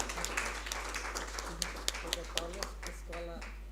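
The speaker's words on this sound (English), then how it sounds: "Please give a huge round of applause." Scattered audience applause at an academic lecture on Buddhist philosophy, quiet and uneven claps trailing off, with a voice speaking faintly underneath.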